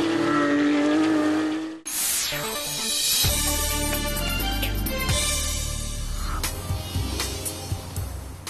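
Porsche Carrera Cup race cars with boxer engines, loud and close, roaring through gear changes, with passing cars sweeping by and engines revving hard on track.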